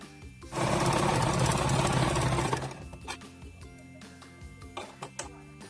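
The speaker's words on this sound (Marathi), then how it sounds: "आणि सर्व बाजूनी शिलाई मारून घेऊया." A sewing machine runs a rapid, loud burst of stitching along the edges of old denim shirt fabric for about two seconds, then a few light clicks and handling noises follow.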